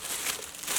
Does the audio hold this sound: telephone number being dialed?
no